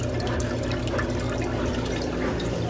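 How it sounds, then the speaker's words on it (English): A steady, dense rush of water pours out continuously under a constant mechanical hum as a KUPPET compact twin tub portable washing machine spins and its pump drains, loud and close without pause. "it is spinning very quickly, and look at all the water coming out"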